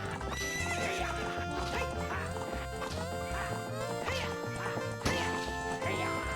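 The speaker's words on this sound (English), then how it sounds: "I'm gonna run into your horse" Horse hooves clip-clop at a gallop with a neigh, rendered as chiptune-style game sound in Zelda: Ocarina of Time, set against constant loud looping game music with dense melodic layers throughout.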